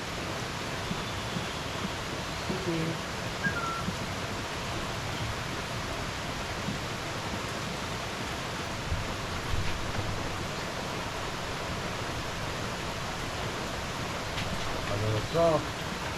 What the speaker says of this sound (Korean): 비가 시원하게 내립니다.